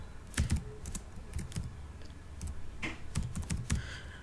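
Typing on a computer keyboard while entering class details into Google Classroom, with bursts of quiet, close keystroke clicks separated by short pauses, alone without talk.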